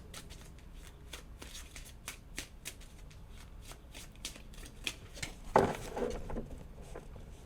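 Tarot cards riffled and shuffled by hand in a weekly reading, a steady run of soft papery flicks with one louder snap near the end, alone and close.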